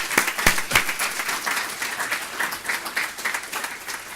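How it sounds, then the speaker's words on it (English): An audience claps and cheers after a live performance, a dense steady patter of applause with a few sharp near claps at the start, no talk. "Can we have another round of applause for the incredible performance?"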